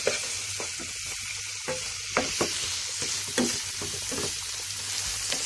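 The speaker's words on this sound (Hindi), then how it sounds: "पांच मिनट कम से कम इसको हम भूनेंगे।" Chicken sautéing in a pan for a mayonnaise chicken pasta gives a steady close sizzle, with repeated scraping and knocking of a spoon stirring through it and no voices.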